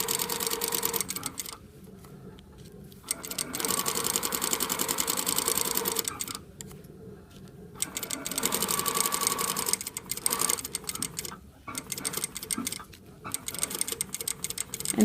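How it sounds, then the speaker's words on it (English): A sewing machine stitches a French seam in several bursts of fast, even mechanical whirring, with short pauses for back tacks, close and fairly quiet. "I start sewing. Few stitches forward and I back tack, and then keep going all the way to the end."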